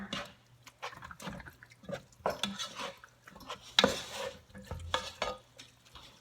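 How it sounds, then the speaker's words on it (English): Picadillo in a pot being stirred after a splash of white wine, with repeated scraping and clinking of a spoon against the pot, wet sloshing and a soft simmer underneath; close, moderately loud, no talking. "give it a nice stir"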